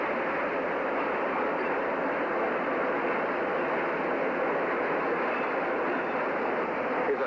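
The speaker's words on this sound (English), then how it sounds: "Here's our train." A train rolls past in a steady, loud, unbroken roar and rumble that holds its level from start to finish, with no voices.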